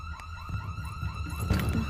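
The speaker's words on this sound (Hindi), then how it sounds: "किसने दबाया अलार्म?" A bank alarm from a film rings as a steady, rapidly repeating electronic wail at moderate volume, with no speech over it.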